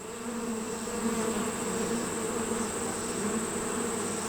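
Honey bees buzzing on a brood frame from a hive, a dense continuous drone close to the ear, steady and fairly loud throughout with no voices.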